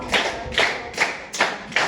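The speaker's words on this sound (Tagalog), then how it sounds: "Bigyan ng inyong mga sarili ng 5 palakpak" A group of students claps in unison five times in a classroom, a steady rhythm of sharp, close hand claps with no talking.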